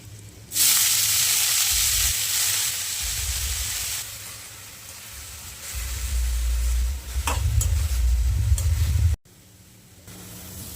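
Fenugreek leaves frying with finely chopped garlic in a pan give a loud, steady sizzle and hiss, with stirring bumps that come and go and a brief quieter pause near the end.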